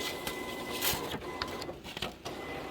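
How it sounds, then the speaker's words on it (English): A printer runs a print head nozzle check, with soft mechanical whirring and the print head shuttling in short, uneven passes, fairly faint and close, with no talking. "every day I do a print head nozzle check to see how it's gonna come out"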